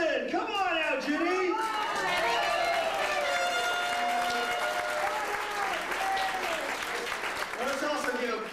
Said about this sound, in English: give another big round of applause for all the entire kitchen staff